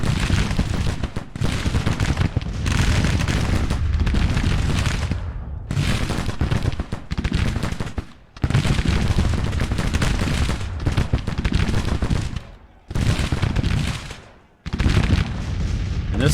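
Cannon and musket volleys from a Grand Tactician: the Civil War battle, 1863, sound as repeated loud booming bursts and crackling rifle fire in long dense stretches separated by brief lulls, with no voices.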